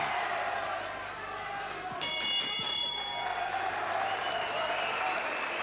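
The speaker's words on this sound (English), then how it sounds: "Coming down to the bell again at the end of a round" A boxing ring bell clangs at the end of a round in a professional title fight, a burst of bright repeated strikes over a steady roaring crowd and applause that swells after the bell.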